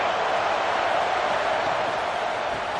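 Stadium crowd at an American football game, a dense, loud, continuous roar of many voices with no breaks, like fans trying to keep the opposing offence pinned deep in its own end.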